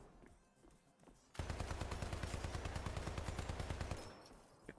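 Machine gun firing in a video game: a sustained rapid burst of evenly spaced shots starts abruptly after a quiet lead-in and runs for about two and a half seconds before cutting off.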